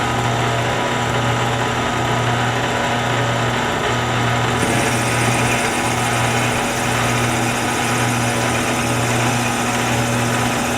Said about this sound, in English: So I'm going to drill this one, then I'm going to drill the other one